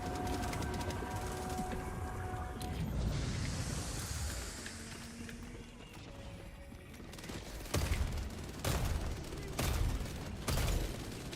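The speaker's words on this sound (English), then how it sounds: "This bolt pistol feels so good." Bolt pistol fire in a Warhammer video game: several sharp, punchy shots crack out toward the end, spaced irregularly over mechanical ambience and a hissing swell earlier on.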